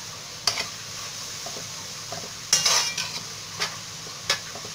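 Onion cooking in fat and ghee in a pan, a soft continuous sizzle near at hand with several bright scraping stirs and light clanks of a utensil, no voices.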